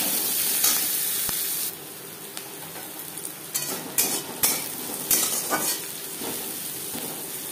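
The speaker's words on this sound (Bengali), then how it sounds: "15-20 সেকেন্ড পাঁচফোড়ন তেজপাতা ভেজে নেওয়ার পর দিয়ে দেবো পেঁয়াজ কুচি" Chopped onion dropped into hot oil with panch phoron and bay leaf, a loud hiss that settles into a steady sizzle, with scattered crackles and stirring scrapes.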